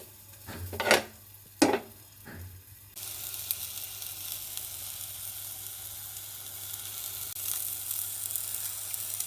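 Boneless hilsa paturi parcels go into a pan and are covered, a few soft clunks followed by a steady, bright frying sizzle that holds evenly to the end.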